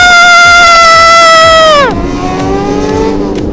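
Kawasaki ZX10R motorcycle engine screaming at high revs, loud and close, holding a steady high pitch before dropping sharply as the throttle closes, then settling into a lower drone.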